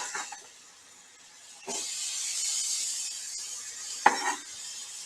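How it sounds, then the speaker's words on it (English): Onions for a Mongolian beef stir-fry sizzle in hot oil with a steady hissing crackle that swells after a soft clatter, punctuated by a sharp utensil knock. "Oh, I got a sizzle."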